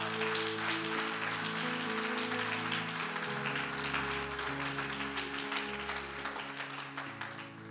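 Church congregation applauding and cheering at a French-language Christian service, a steady wash of clapping over sustained organ or keyboard chords, loud and continuous throughout.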